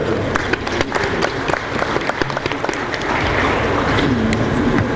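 Applause from an audience at a police security summit in Nigeria, a steady wash of many hands clapping at moderate level, with faint voices mixed in.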